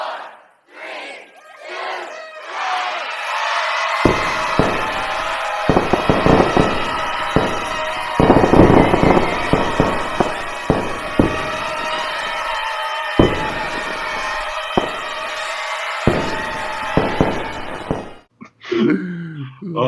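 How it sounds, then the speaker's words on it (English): Dense, loud New Year fireworks explode in rapid overlapping bursts and crackles over a roaring crowd with shouts and cheers, ending in a sudden drop to quiet. "the fireworks in there are just loud"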